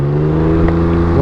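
Can-Am Ryker engine with an upgraded aftermarket exhaust, a steady loud idle-to-rev drone close by, with no talk.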